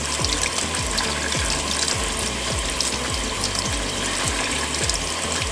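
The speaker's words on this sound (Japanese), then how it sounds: "で、洗い流します。" Makeup sponges and tips washed with hand soap are rinsed under running water, a close, steady gush with a fast, regular squelching pulse underneath.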